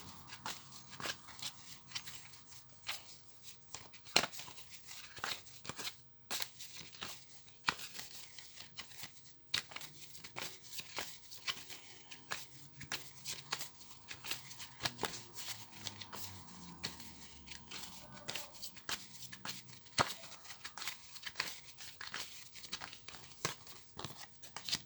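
Tarot cards being shuffled before a card draw, a steady soft riffling and rustling that runs close and continuous for the whole stretch, with no voice over it.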